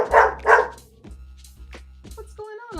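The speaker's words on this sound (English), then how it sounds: "He's doing his thing where he's just barking and staring at the floor." A dog barks twice, loud and close, then gives a few softer yips and whimpers, with a steady low hum underneath.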